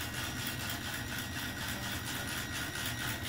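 A 3D-printed 1/144-scale radio-controlled Imperial Japanese Navy destroyer Akizuki runs at low throttle, giving a steady, even motor whine with a faint hiss that holds unchanged and alone throughout.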